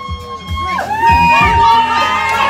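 A lively crowd cheers and whoops for contestants racing to drink, loud and close, with excited shouting voices rising together.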